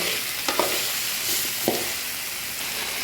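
Shrimp and liver frying in a pan for an Ilonggo-style arroz valenciana: a steady close sizzle with a few light clinks and stirring scrapes, no voices.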